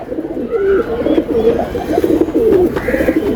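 Large pigeons of a racing line cooing nearby in low, throaty rolling phrases, two or three bursts with brief pauses between them and no one talking.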